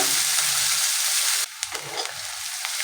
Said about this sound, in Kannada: ಇವಾಗ ಇದನ್ನೆಲ್ಲ ನೀಟಾಗಿ ಫ್ರೈ ಮಾಡ್ಕೊಳ್ಳೋಣ